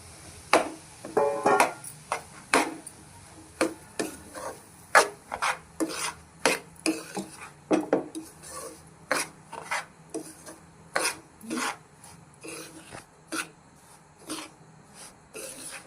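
Semolina roasting in ghee in a pan for rava laddu, heard as steady rhythmic scraping and rasping strokes of a spoon stirring the dry grains against the metal, close and moderately loud with no voices.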